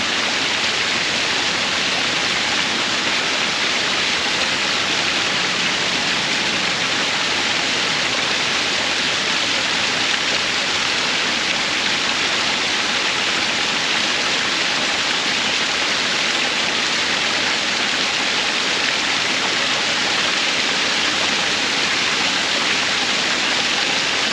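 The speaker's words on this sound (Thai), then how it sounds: "เก็บเอาบรรยากาศเสียงน้ำตกนะครับ" A steady, dense roar of a waterfall, broad and hissing, unchanging and continuous with no voices.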